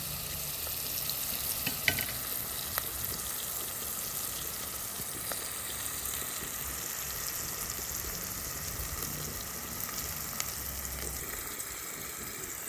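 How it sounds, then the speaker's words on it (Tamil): Steady sizzling of onions frying in a pan, with scattered scraping clicks as they are stirred; continuous and fairly close, no talking. "வெங்காயம் வந்து நல்லா வதங்கட்டுக்கும்"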